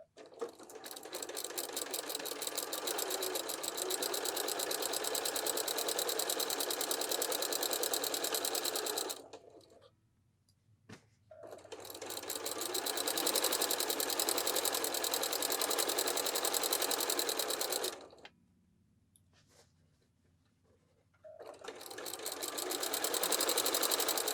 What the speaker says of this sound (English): Let's go baste across the top.